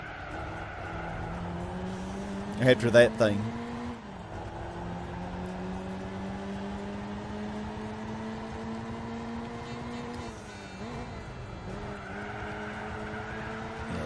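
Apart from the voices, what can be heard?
Lotus classic race car driving in the video game Gran Turismo 4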